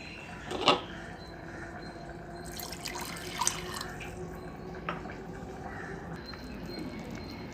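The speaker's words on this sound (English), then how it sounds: "Going to rinse it with a little water" Water trickles and drips nearby, with a few sharper splashes and clinks as a ground spice mix is rinsed out with a little water for an elephant yam gravy, fairly quiet overall.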